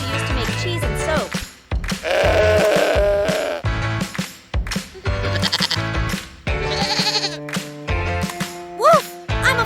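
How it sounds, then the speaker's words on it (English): A goat bleating on a farm in repeated wavering calls, loud and close, over a busy bright music backing with chimes and a plucked melody. "I'm a goat, and I help farmers by clearing brush and weeds with my love for munching on plants."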